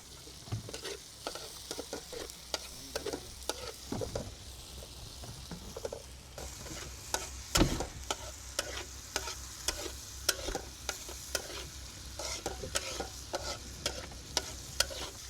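Spice paste for hilsa curry sautés in a pan, a constant sizzle broken by frequent sharp scrapes and taps of a spoon stirring, with no talking.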